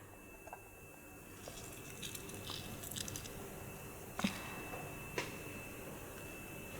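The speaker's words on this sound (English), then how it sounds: "now I'm going to squeeze the jackfruit to get rid of the excess water" Grated young jackfruit is squeezed by hand to press out excess water for Balinese chicken lawar, giving faint, sparse wet squishes and soft crunches in a quiet kitchen, with a couple of sharper clicks near the end.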